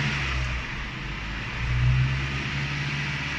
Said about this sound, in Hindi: ये मैंने खुद चेक करने के लिए एक्सीलेटर दिया था, थोड़ी देर के लिए मैंने एक्सीलेटर अप किया था